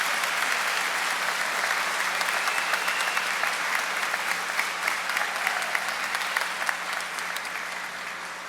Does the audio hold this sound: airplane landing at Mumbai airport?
no